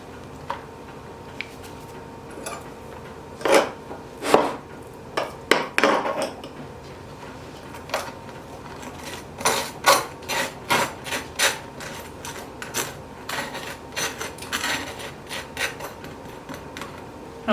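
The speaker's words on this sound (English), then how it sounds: "So let's put some butter on here, and it's gonna nicely melt on top." Butter spread with a knife across toasted gluten-free rice sourdough bread, giving scattered dry scraping and rasping strokes, some louder and closer, in a quiet kitchen with no talking.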